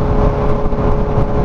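A motorcycle rides at night with a steady, loud engine drone and wind rush close by, holding an even pitch throughout with no talk over it.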